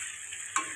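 A spice mixture frying in oil for white chicken gives a faint, steady sizzle with a short clink near the end, no talk.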